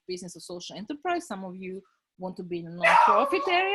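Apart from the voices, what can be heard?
dog barking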